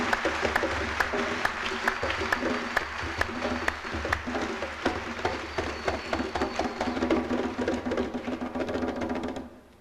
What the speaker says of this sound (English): Can we give him again another round of applause?